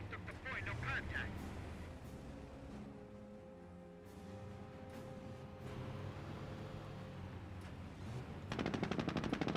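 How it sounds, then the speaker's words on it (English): MG40 machine gun fire in Company of Heroes raking a Jeep, with repeated bursts of rattling shots over a busy battlefield din and a dense, fast burst close up near the end. "MG40 has repositioned here, peppering up the Jeep a little bit."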